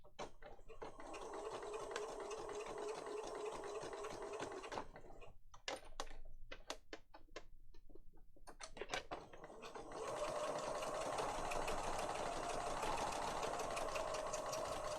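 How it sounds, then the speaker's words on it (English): A sewing machine stitches paper with a straight stitch in steady bursts of rapid mechanical stitching, pausing midway for a few clicks and taps before resuming its fast, even whir. "you're sewing it with a sewing machine"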